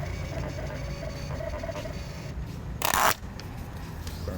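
A printer prints out a reward sheet, one short loud mechanical burst near the end rising over a steady low room hum.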